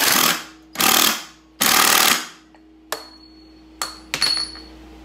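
A 1-3/16 socket on an impact wrench hammers down on a Yamaha secondary clutch in three loud rattling bursts, followed by a few shorter taps with metallic ringing.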